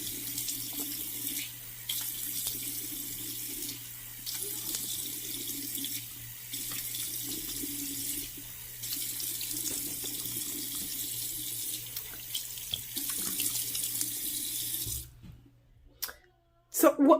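Warm water runs steadily from a tap into a sink for washing, a close, continuous splashing that pauses briefly several times before cutting off with a few clicks near the end.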